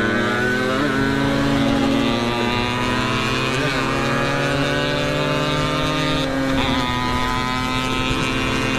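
A Suzuki Satria motorcycle engine idles and revs nearby, a loud continuous drone with bassy rumble and slight rises in pitch.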